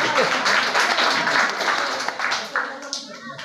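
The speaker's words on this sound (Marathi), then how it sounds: "सर्वांनी टाळ्या करायचं स्वागत करायचं आहे." An audience claps in welcome as guests are honoured with garlands at a Mumbai association gathering. The dense, steady applause fills the clip, with voices mixed in, and thins out toward the end.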